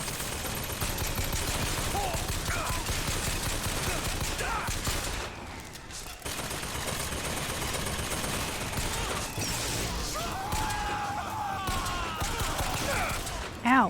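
Rapid gunfire and combat noise from the video game Bioshock Infinite run loud and nearly continuous, with bursts of shots and impacts and a brief lull midway; a voice talks now and then.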